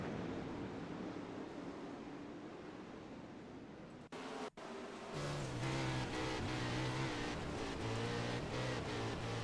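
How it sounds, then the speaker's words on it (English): Engine of a wingless 360 sprint car racing at Knoxville, its driver feathering the throttle; a distant droning motor wavers, cuts out briefly, then returns louder with pulsing revs and shifting pitch as the car battles for position. "You hear how much he's feathering that throttle there, doing battle for second."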